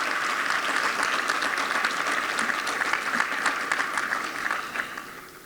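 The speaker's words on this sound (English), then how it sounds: "A round of applause, please." A seated audience at a 2022 foundation scholars celebration dinner breaks into sustained clapping, a full, bright patter of many hands that stays strong throughout and thins out toward the close.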